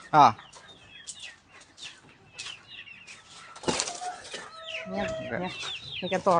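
Native chickens cluck and squawk close by in a lively flock with chicks, with a burst of wing flapping midway and brief human voices mixed in.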